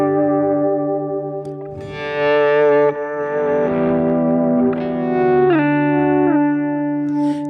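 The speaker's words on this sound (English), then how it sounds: "just the way the delays are interacting creates very unique tones" Electric guitar played with layered delay effects in a worship-style setting, sustained tone swells blooming and overlapping into shimmering, ringing repeats, with chord changes midway and steady loudness, no voices.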